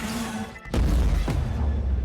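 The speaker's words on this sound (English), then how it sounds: "She points the gun at him and pulls the trigger, which sets off a massive explosion." A massive explosion in the Arcane animated series: a loud, sudden boom bursts in after a brief drop to near silence, followed by a second hit and a sustained low rumble that fills the rest of the moment.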